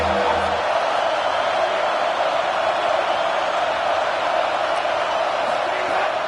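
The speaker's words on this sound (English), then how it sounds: "Decibels rising as the crowd gets behind this defense on 3rd down." A college football stadium crowd roars on third down, a dense, loud, sustained wall of cheering and yelling with no breaks, heard from within the stands.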